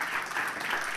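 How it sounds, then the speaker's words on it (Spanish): A brief burst of audience applause for a children's singer-performer at the end of a song on a Spanish-language talk show: dense, steady clapping from a studio crowd, fairly loud throughout. "Un aplauso."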